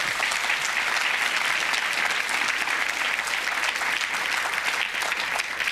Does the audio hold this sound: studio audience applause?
yes